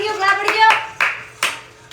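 A few hands clap at a family gathering, about four sharp claps spaced unevenly, with a voice and other talk around them.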